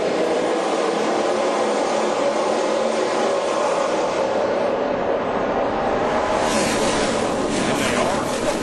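A pack of NASCAR stock cars at the start of the 2007 Auto Club 500 makes a dense, continuous engine roar that fills the whole stretch, with a voice faintly under it.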